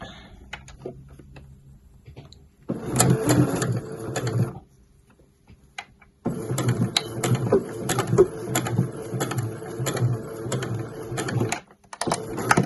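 A domestic sewing machine stitches a short bar tack across the open end of a zip on a weekender bag, running in two close bursts of rapid whirring stitches separated by a quiet pause.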